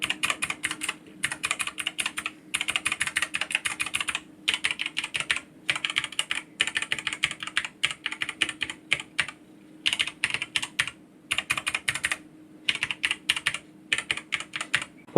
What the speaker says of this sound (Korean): 교체한 부분만 타건 테스트를 해볼게요